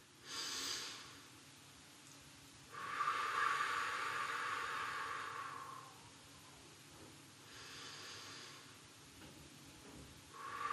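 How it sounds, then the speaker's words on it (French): Deep belly breaths drawn in slowly during a relaxation breathing exercise, soft airy inhalations rising and fading in long swells over several seconds, faint and close with no speech. "on se détend et on inspire"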